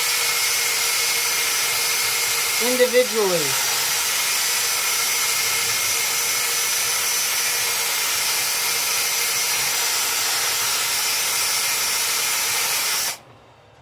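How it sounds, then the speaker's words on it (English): A drill with 80-grit sandpaper sanding a walnut bowl gives a steady, loud, hissing whir that runs nearly unbroken before cutting off abruptly, with one brief word spoken early on. "get the drill with 80 grit. So the very much toughest grit you can get."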